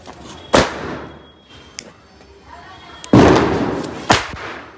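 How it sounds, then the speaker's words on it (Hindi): Bijli bomb firecrackers set off during Diwali, giving two sharp, loud bangs several seconds apart, each decaying over a second or so, with small faint pops and crackles between them. "अरे बिजली बम का पैकेट आता है अभी भी, ये है बम इसमें, तो इसको जला के देखते हैं कैसे फटेगा"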